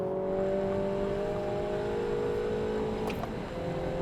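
The engine of a MINI Challenge race car pulls hard on track at Castle Combe, a loud, steady in-cabin drone with rising tones and a brief dip near the end.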